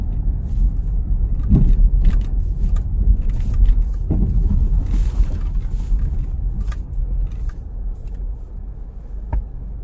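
A vehicle travels along a narrow rural hill road through green hilly countryside in Karangsari village, Jatiyoso, Karanganyar, with a steady close engine and road rumble and a couple of bumps throughout.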